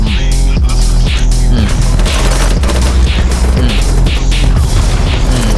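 Explosions and heavy gunfire fill a firefight in the shooter game BattleBit Remastered, a dense, loud barrage of booms and rapid shots packed together without pause.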